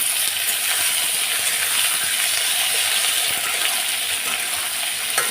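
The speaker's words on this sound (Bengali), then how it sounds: "আলু পটল ভাজাটা করে নিই" Potato and pointed gourd pieces frying together in hot oil in a home kitchen make a loud, continuous sizzle, with scattered clinks and scrapes of stirring underneath; no voices.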